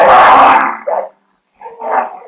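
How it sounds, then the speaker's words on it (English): Dogs barking in an old 1938 radio drama, a burst of loud, close barks followed by a short yelp, a brief silence, then another bark, heard alone without voices. "Call the dogs off."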